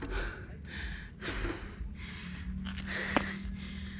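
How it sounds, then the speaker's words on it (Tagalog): Someone pants heavily after climbing a steep uphill road at Locloc, San Luis, with several deep breaths in and out at an uneven rhythm, close to the microphone. "Nakatigil na ako, hindi pa nawawala yung hingal."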